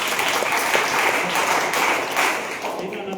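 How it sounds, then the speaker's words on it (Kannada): Lecture audience applauding, dense continuous clapping from many hands filling the room, steady and fairly loud for a few seconds before thinning slightly at the end. "ಜೋರ ಚಪ್ಪಾಳೆ ತಟ್ಟಬೇಕಲ್ವಾ?"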